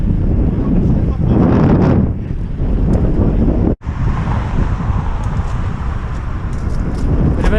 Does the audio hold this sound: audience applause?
no